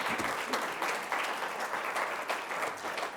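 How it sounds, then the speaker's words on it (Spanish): A church congregation claps during a Spanish-language sermon, a moderately quiet, continuous patter of many hands with slight swells. "Démosle un aplauso al Señor porque Él así es."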